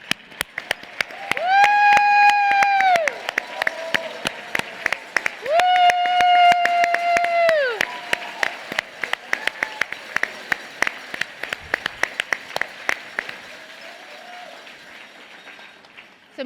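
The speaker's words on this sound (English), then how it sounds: "Please join me in thanking them with a big round of applause." A crowd at an awards celebration gives honorees a big round of applause, scattered sharp claps joined twice by long, loud tonal whoops or cheers, the clapping thinning toward the end.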